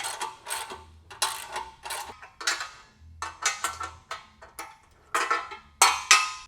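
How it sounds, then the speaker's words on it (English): Socket wrench tightening 17mm bolts on a Valor Fitness BE-11 Smith machine steel frame, a run of close, loud metallic ratcheting bursts and clanks repeating in quick clusters, with no talking. "make all these bolts secure with a 17mm wrench and socket. Makes it a little faster with the socket wrench."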